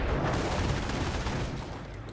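Gunfire in a World War II real-time strategy game, Company of Heroes, during a large tank battle: a dense, continuous rattle of shots and distant combat rumble at moderate level, with no talk.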